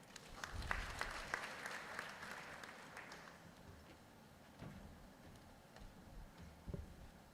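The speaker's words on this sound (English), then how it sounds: "Another round of applause for Dr. Ramesh" An audience at a regional advisory committee meeting applauds. A burst of clapping at the start thins out into scattered claps, and the whole thing stays fairly faint and distant.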